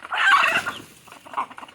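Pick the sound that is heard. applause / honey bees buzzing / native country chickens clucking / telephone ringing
native country chickens clucking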